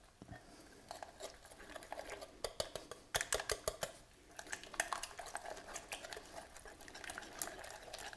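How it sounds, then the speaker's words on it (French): Cookie dough being mixed in a bowl after a spoonful of vanilla extract, with repeated scraping and clinking of a utensil against the bowl in an uneven rhythm, close and moderately quiet, with no talking. "On mélange le tout."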